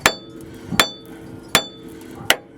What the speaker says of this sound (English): I'm going to just try to hit it with a hammer